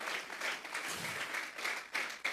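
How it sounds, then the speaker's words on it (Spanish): A church congregation claps together during a Sunday service, a fairly soft, steady wash of hands with a few louder bursts toward the end and no talking. "Vamos a regalarle ofrenda de palmas al Dios de la gloria."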